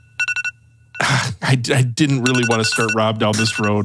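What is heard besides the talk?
alarm ringing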